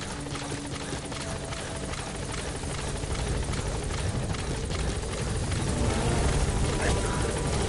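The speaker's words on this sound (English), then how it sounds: "Support helicopter has arrived." A support helicopter's rotor in a video game thrums steadily and loudly throughout as it arrives, growing slightly stronger toward the end, with no voices over it.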